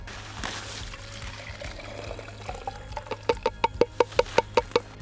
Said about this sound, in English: Basically we just pour it into this jar.